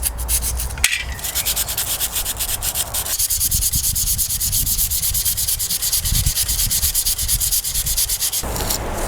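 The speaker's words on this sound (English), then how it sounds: "actually give that a bit of a sand and a wipe down" Hand sanding on the sunroof wind deflector of a Mk2 Volkswagen Golf, a loud, close, rhythmic scratchy rasp of quick back-and-forth strokes running continuously for about nine seconds, with no talking.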